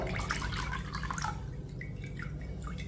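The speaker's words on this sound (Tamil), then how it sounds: "இதை ஜல்லடையில் தண்ணியை நல்லா நிறுத்துக்கிடுவோம்" Water steadily drips and trickles from sprouted ragi through a strainer, a continuous close patter with no voices.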